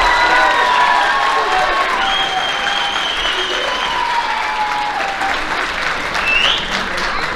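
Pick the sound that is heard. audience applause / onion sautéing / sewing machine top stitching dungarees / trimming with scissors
audience applause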